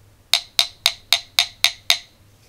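A genuine Samsung 18650 lithium battery cell is struck seven times at a steady rhythm, each hit a sharp, bright metallic tap with a quick ringing decay, close and alone.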